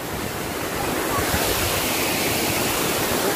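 A waterfall at a hillside falls site roars as a steady, dense broadband rush, loud and continuous throughout with no breaks.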